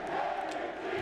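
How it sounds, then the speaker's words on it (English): A stadium crowd chants in the baseball video game MLB Slugfest 2003, a steady, sustained roar of many voices through the whole moment. "The crowd is chanting for Jeter."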